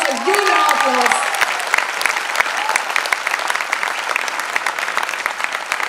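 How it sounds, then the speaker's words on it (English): A college Republic Day audience breaks into sustained applause, steady dense clapping lasting several seconds and slowly easing, with a voice briefly heard at the start over the claps. "I think it deserves a huge round of applause."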